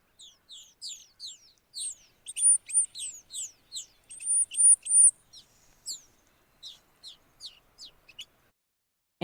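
A brown-capped rosy finch gives a run of high, short chirping calls, some clustered in quick bursts, others spaced apart, clear and close with no other sound around them.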